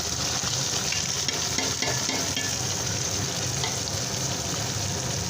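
Ingredients fry in hot oil in a home kitchen, a dense, continuous sizzle with crackling texture, close and steady throughout, with no talking.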